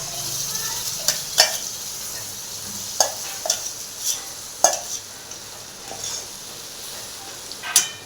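Masala gravy is stirred in a hot frying pan: a steady soft sizzle runs under repeated sharp scrapes and clinks of a spoon against the metal pan, close up, with no talk.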